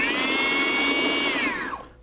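A food processor blade whirs in a steady, loud, high-pitched whine while blending vegetables and frothy egg whites, then winds down at the end.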